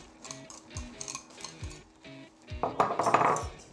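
A spoon gently stirring melting chocolate in a pot while making chocolate éclairs: soft scraping and knocking against the metal pot in an uneven rhythm, close and clear, with a louder rattling clatter near the end and no talking.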